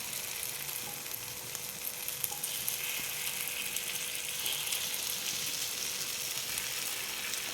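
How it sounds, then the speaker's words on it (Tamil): Sweet puffed-rice paniyaram frying in a pan, a steady close hiss and crackle of oil that stays even throughout with no voices. "இன்னொரு சைடும் நல்லா வேகட்டும்."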